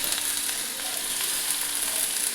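Chopped bottle gourd stems sizzle in hot oil with potatoes in a home kitchen pan, a steady soft crackling hiss that runs on evenly without pause.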